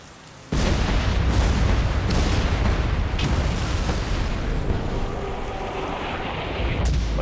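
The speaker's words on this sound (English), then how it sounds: "Well, investigate that explosion." A loud explosion in The Saboteur video game bursts in abruptly after a moment of quiet, then rolls on as a long rumbling roar with scattered crackling debris that slowly eases off.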